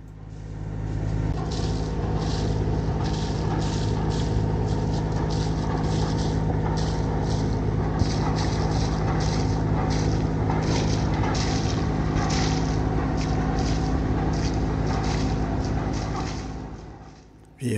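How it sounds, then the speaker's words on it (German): A sailboat's auxiliary engine drones steadily and close for the whole stretch while motoring in light wind off Croatia, with wind and water noise mixed in and a faint rhythmic chugging. "weil kaum Wind ist, müssen wir den Motor zur Unterstützung dazu nehmen"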